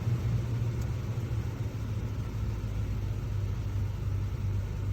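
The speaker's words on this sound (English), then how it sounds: "If I start the truck." A truck engine idles in a low, steady rumble that stays faint and even throughout, with no voices over it.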